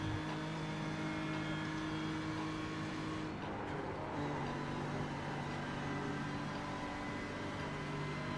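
Race car engine in a racing video game, a steady droning hum with a brief dip and whoosh midway, continuous and moderately quiet, with no talk.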